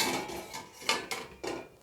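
A metal steamer plate is set over a pot of boiling water, ready for wheat kozhukkatta. Three distinct metallic clanks ring out close by against a low background rumble, with no talking.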